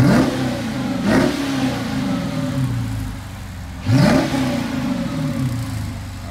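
A straight-piped truck engine revs in rising and falling bursts as it drives up onto a ramp, its throaty exhaust swelling loudly twice, with no talking.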